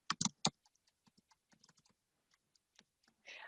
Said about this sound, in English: I do that by typing in the following subject, heading, or category: foreign language study.